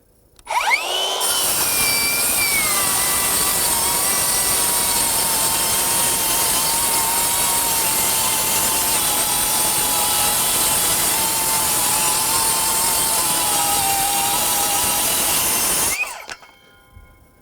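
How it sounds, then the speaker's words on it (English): A Metabo HPT MultiVolt C36 rear-handle 7-1/4-inch battery circular saw cuts through wood, spinning up with a sharp rise then holding a loud, steady whine for about fifteen seconds, the pitch sagging slightly as the load drags on the motor, before stopping. "You can hear the saw bogging slightly, and I wouldn't say bogging, but you can hear the RPMs come down a little bit."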